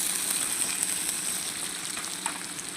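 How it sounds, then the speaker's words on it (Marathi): Onion frying in a pan for a homestyle capsicum and potato sabzi, giving a steady bright sizzle that stays even and close throughout with no talk. "आता आपण यात कांदा घालून घेऊ"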